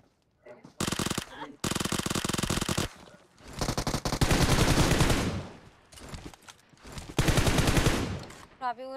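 Video game gunfire comes in loud, close bursts of rapid automatic shots, separated by short pauses and ending in a long, dense stretch of firing.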